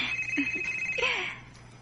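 A telephone rings with an incoming call, a bright electronic ringtone warbling briefly at moderate loudness before fading, with no one speaking.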